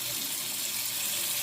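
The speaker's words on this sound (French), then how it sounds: "J'ouvre mon robinet" A kitchen sink tap turned on for handwashing, water gushing steadily and loudly from the faucet in a brief close-up burst, with no speech.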